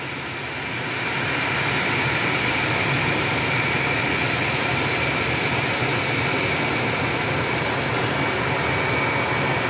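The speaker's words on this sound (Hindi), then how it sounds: "और ये ऑटो फैन जब चलते हैं तो इस तरह से नॉइज़ हमें 2 पर मिलता है।" A ventilated car seat cushion fan running at its second speed inside a started car with the AC on, producing a steady, loud, even whirring hiss that rises slightly at the start and then holds constant.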